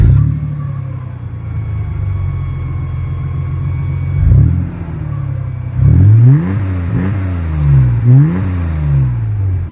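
A Nissan R31 Skyline engine, already warm, idles with a low rumble and then revs repeatedly, several sharp rising and falling bursts that sound loud and close.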